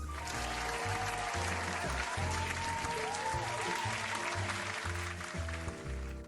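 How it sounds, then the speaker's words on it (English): Loud, sustained applause from a comedy-night crowd, with clapping that fills the space and continues throughout, over a rhythmic music bed. "how about we give a big round of applause"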